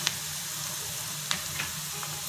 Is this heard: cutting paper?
no